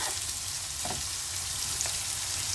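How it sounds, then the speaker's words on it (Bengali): Onions frying in a pan over a medium gas flame, giving a steady, even sizzle throughout with a couple of faint clicks, close by and with no talking. "মিডিয়াম ফ্লেমে গ্যাসের আঁচটা একটু কমিয়ে পেঁয়াজটাকে ধৈর্য ধরে ভাজতে হবে"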